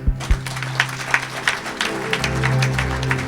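A church congregation claps in rhythm, a steady beat of hand claps over background music and murmuring.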